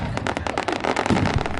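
Fireworks and firecrackers such as black cats and mortar shells go off in a rapid, dense string of sharp cracks and pops, loud and continuous with a few heavier bangs.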